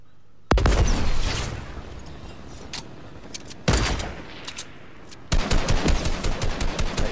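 Bursts of rapid gunfire in a battle royale duos match, bullets hitting wood, arriving in three loud strafing volleys separated by quieter gaps, with sharp individual cracks in the final burst.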